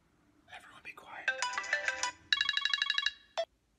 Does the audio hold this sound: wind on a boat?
no